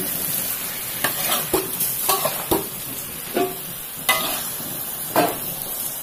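Spices for Makassar konro soup sauté with salt in a pan, heard as repeated scraping stirs of a utensil against the pan at irregular intervals over a light sizzle, close and fairly loud.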